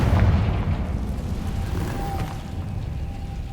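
A spell explosion in a Harry Potter video game opens with a deep, booming blast, then fades into a low rumbling tail with a faint whistling tone near the end.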